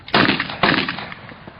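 Two loud, close gunshots from an old artillery or field gun, each a sharp blast followed by a short rumbling decay, about half a second apart.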